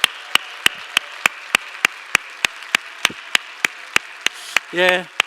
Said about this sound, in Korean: 다시 한번 크게 박수하겠습니다.